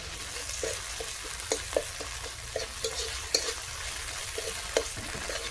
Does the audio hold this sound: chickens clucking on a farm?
no